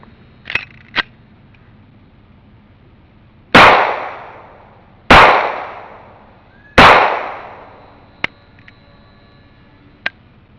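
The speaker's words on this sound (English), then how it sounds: "I'm going to take this Grand Power and shoot at that right target." Three loud, sharp Grand Power pistol shots fired at a target outdoors, each followed by a decaying echo, with a few lighter metallic clicks before and after.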